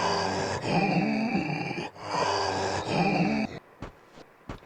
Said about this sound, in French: Et ces grognements